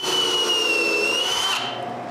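A drill bores screw holes in wood, giving a brief high whine at steady speed that drops away after about a second and a half, close up and with no talking.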